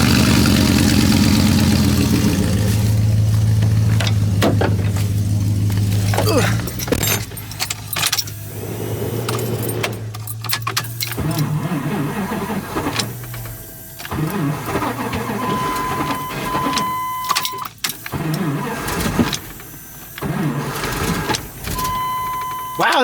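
Cold-weather start of a 1997 Volkswagen Jetta MK3 with a rough, struggling engine, heard as loud, close cranking and uneven revving mixed with jangling keys, while voices talk nearby.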